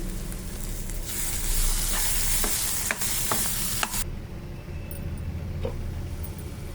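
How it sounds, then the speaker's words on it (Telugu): Shrimp and cashew curry with thick masala paste sizzling steadily in a pan while being stirred, the spatula scraping at intervals over a continuous frying hiss that softens toward the end. "మధ్యలో తిప్పుకుంటూ ఉండాలి"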